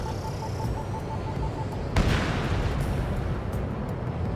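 Bombs exploding in the air combat video game Ace Combat 7, flown in a Mirage 2000 mission: a sharp blast at about two seconds rises out of a continuous jet-engine roar and leaves a rumbling tail.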